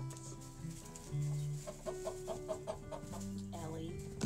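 A hen clucks in a nest box inside a chicken coop, a series of low, rhythmic clucks and a few drawn-out calls, close but fairly quiet, with light background sounds.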